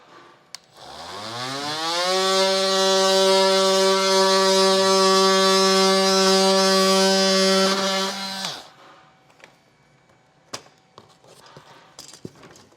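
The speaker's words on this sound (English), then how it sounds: "if you do use a powered blade to cut this bottom portion, it's going to be easiest to use my multi-tool" A powered oscillating multi-tool trims the plastic bumper fascia of a 2013 Mini Clubman. A loud, steady buzzing drone ramps up and holds for about seven seconds before cutting off, followed by quiet handling noises.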